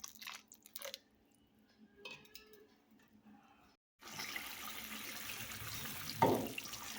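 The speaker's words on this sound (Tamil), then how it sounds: "இப்போ நம்ம கொஞ்சமாக தண்ணி சேர்த்துக்கலாம்." Water is poured into a pan of cooking tomato masala in a kitchen, a faint splash and sizzle rising after a quiet stretch of small clinks, with a brief louder gush near the end.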